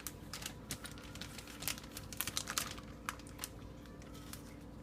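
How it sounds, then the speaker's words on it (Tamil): A plastic ziploc bag is crinkled and handled while raw mutton is put into it, giving close, soft irregular crackles and rustles at low level with no talking. "ஃபஸ்ட்டு இந்த மட்டனை இந்த ஜிப்லாக்கில் போட்டுடலாம் அதுக்கப்புறம் இந்த தயிரையும் இதுக்குள்ளே ஊற்றிக்கலாம்"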